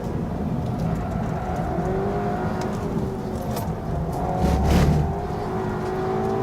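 Seat Leon Cupra 280 driven fast on a track, its engine a steady droning whir that swells briefly midway, heard close from inside with no one speaking.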